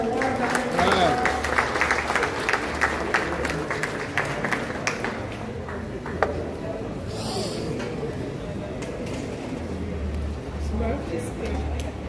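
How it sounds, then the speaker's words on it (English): A crowd at a tourism product launch applauds a minister steadily for several seconds, a dense wash of clapping with murmuring voices mixed underneath. "please give the minister again a warm round of applause"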